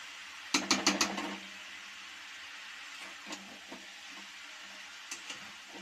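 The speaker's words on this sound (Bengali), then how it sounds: "শসাটা দিয়ে একটু ভালো করে এখন ভাজা ভাজা করে নেব। এখন আমি এই যে চিংড়ি মাছটা দিয়ে দিয়েছি।" Cucumber and shrimp frying in a pan: a few quick spatula scrapes and stirs at the start, then a faint, quiet sizzle broken by occasional soft clicks.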